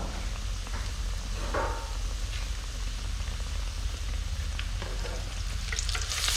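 A sandwich sizzles and fries steadily in a hot pan after being flipped, a continuous close crackle with faint scrapes and stirring clicks, no talking.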